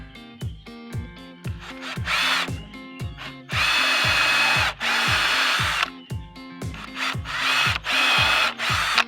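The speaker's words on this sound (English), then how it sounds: "Go ahead and pre-drill diagonally into this cross member" A power drill with a 1/2-inch bit whirs in repeated short bursts, pre-drilling diagonally into a wooden cross member with a high grinding whine, then longer sustained runs; close and loud, with no voices.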